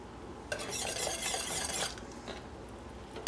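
A spoon scrapes and stirs through honey boiling in a pot for homemade cough drops. A dense, close bubbling and scraping swell runs for about a second and a half, then settles into quieter stirring.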